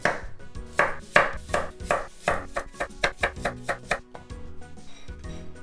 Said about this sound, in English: the eggplant, I'm also going to cut into kind of slices